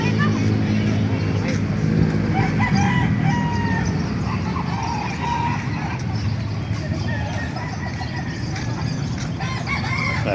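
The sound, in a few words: rooster crowing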